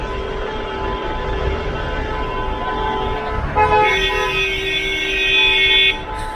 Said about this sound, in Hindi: और अगर आप सुन पा रहे हैं तो पीछे एक ट्रैफिक जाम लग गया है